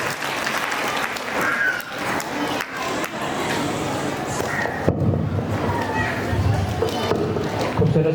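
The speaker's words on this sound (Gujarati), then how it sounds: "એક વખત જોરદાર તાળીઓ તમામ બહેનો માટે કે જે સ્ટેજ પર બેઠી છે." An audience at a family community gathering claps loudly and steadily for the women seated on stage, with crowd noise underneath.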